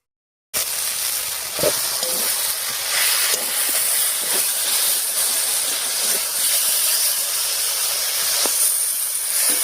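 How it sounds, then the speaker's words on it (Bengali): Water poured into a hot pan of low-oil papaya curry sets off a loud, continuous steamy hiss and sizzle that lasts for several seconds with a few faint clinks, and no voices. "এবার ঢাকাটা তুলে ঝোলের জন্য জল দেবো।"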